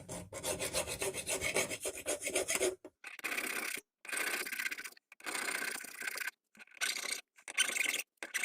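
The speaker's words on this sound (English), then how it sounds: "that thing's not liking my file. That's all been hardened." A hand file rasps across hardened steel on an old Stilson pipe wrench, loud and close in a long continuous stroke, then a series of shorter strokes separated by brief pauses.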